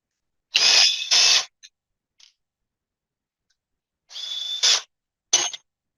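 Loose bolts are zipped out of a Hyundai Kia A6 transmission with a power tool, a few short loud whirring bursts separated by silence, close by, with small clicks between.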